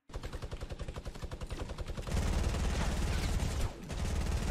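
Minigun fire in Fortnite, a rapid stream of shots that starts mid-paced and then becomes a dense, continuous roar, loud and sustained with a brief dip before resuming.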